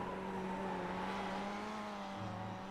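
A touring car in iRacing accelerates out of corners, its engine droning in a steady, buzzing rev with faint tire noise and a lower tone creeping in toward the end; continuous, with no talking.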